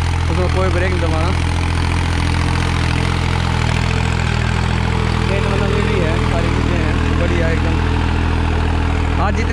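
A 2016 New Holland 3630 Plus tractor engine runs steadily in a village fuel-consumption test, a loud continuous diesel drone with a low throbbing beat, heard close up throughout with voices faintly talking over it.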